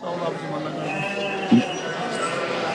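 Sheep bleat amid a noisy crowd, with people talking over the steady murmur of a busy livestock market.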